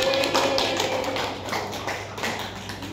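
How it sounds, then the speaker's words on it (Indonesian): Classroom applause for a pupil, a few seconds of quick, fairly close hand claps in an indoor room. "tepuk tangan buat Mbak Tamara."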